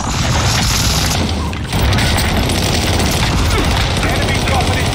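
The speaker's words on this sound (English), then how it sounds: "Allied precision airstrike incoming." Precision airstrike explosions in Call of Duty Warzone, a dense, loud barrage of booming blasts and rattling gunfire that runs continuously with a brief dip, alongside game voice announcements.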